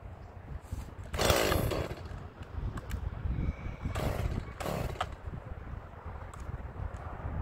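A Stihl MS170 chainsaw cuts through junk wood, its engine running steadily and rising in bursts of louder cutting noise across the stretch, close by with no talking.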